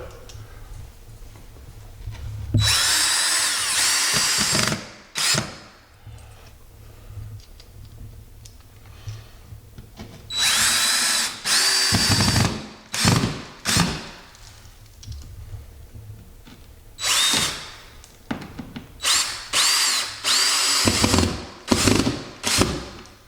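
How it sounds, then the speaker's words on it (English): A power drill drives screws through a sheetrock patch into the support wood behind it, in several loud whirring bursts separated by short pauses and clicking handling sounds. "So now we want to get some screws and go ahead and screw it to your support wood."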